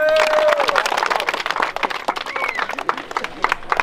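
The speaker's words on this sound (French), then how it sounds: "On applaudit." An audience at a 2017 well-drilling event in Burkina Faso breaks into applause, dense clapping from a crowd close by with cheering voices mixed in, thinning slightly as it goes on.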